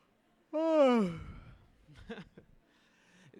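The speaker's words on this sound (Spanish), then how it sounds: "vamos a bostezar fuerte, fuerte" A single loud, drawn-out yawn-like exhalation with a falling voiced tone, followed by quieter shuffling and faint murmurs.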